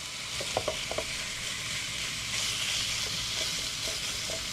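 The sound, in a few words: garlic butter pork bites searing in a pan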